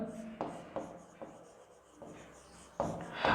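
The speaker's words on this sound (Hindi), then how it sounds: "अल्टरनेशन लिखेंगे यहां पर" Marker or chalk writing on a board during an options trading lesson: soft, faint squeaks and taps in short strokes with brief pauses, quiet and close, with no voice over the sound.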